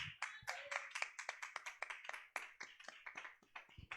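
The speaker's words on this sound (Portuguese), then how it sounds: "Aplauda o Senhor, irmãos" A church congregation claps during an evangelical worship service, with a brisk run of sharp, fairly close handclaps in an irregular rhythm that continues steadily throughout.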